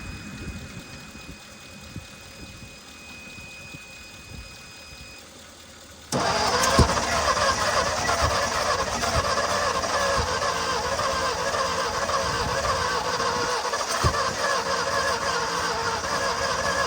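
An old car engine that sat parked for 43 years cranks and catches with a sudden loud start, then settles into a steady, rough, close-up idle after a few seconds of quiet background.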